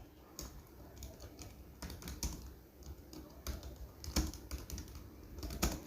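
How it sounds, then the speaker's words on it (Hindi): Brisk, steady typing on a computer keyboard for a Rajasthan High Court LDC typing efficiency test, a dense run of close, crisp key clicks with occasional louder strikes and short pauses. "गवर्नमेंट स्कूल आपको टाइप करना है।"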